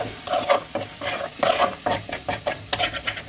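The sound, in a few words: frying spice paste (masala) with a little water in a pan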